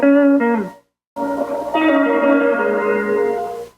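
Guitar played through an amp with a slapback echo effect, sustained chords ringing with reverberant repeats, a short break and then a fuller strummed passage.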